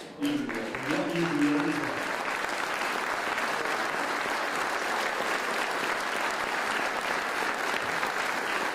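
An audience applauds the command staff of the Springfield Police Department at a welcome for a new superintendent. Dense, sustained clapping fills the room evenly, and a voice is heard briefly at the very start.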